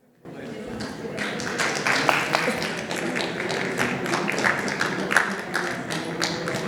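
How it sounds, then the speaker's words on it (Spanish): A conference audience applauds to welcome a speaker onstage at a transatlantic dialogue event, with steady, dense clapping from a large crowd that begins abruptly and continues throughout. "Recibimos con un gran aplauso a Juliet"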